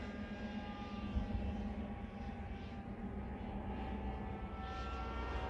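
A scratch-built RC pusher model plane in flight, giving a faint, steady, high-pitched motor whine that drifts slightly in pitch as it turns, with no talk.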